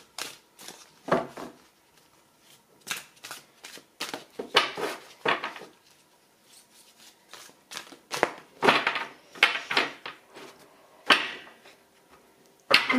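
Tarot cards being shuffled and drawn by hand, a run of crisp papery riffles, flicks and slaps in irregular bursts, close and fairly quiet with no talking.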